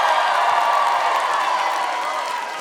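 A live stage show audience cheers and applauds as a man comes up on stage: a steady, loud wash of crowd cheering and clapping that holds throughout and fades slightly at the end.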